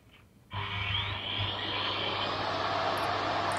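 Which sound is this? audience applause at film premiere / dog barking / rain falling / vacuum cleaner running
vacuum cleaner running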